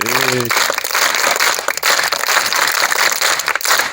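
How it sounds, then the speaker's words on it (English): Schoolchildren at Nyakagyerra Primary School clap for visitors, a dense, steady patter of many hands lasting throughout, loud and close after a brief sung or spoken note at the start. "can you clap for visitors?"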